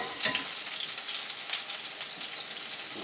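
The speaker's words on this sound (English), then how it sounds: "Stir fry." Haddock and bok choy stir-frying in a pan on a stovetop burner, a steady bright sizzle with a few sharper crackles and spatula scrapes near the start, close and continuous with no talking.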